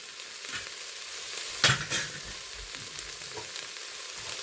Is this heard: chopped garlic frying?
yes